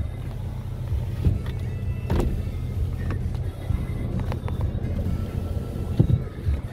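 A 2011 Toyota Camry LE's electric windows whir with a low motor hum inside the car, joined by a few soft clicks and knocks.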